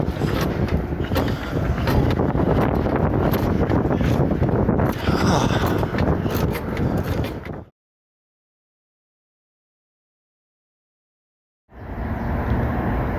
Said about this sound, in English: But it's really windy through this area heading north.